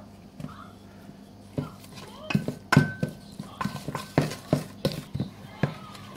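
A spoon scrapes and knocks around a bowl while butter chicken marinade with turmeric, saffron and salt is mixed, giving irregular close clinks and taps across the clip over a low background hum.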